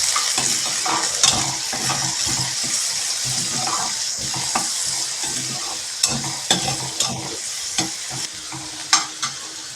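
Onions, cumin and mustard seeds sizzle steadily in a hot pan for a gongura curry while a spoon stirs them, with scraping clicks and small clinks rising near the end.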